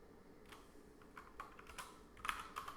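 Computer keyboard keys are pressed in a quick series of soft, close clicks and taps for an Option Delete shortcut, with no talking.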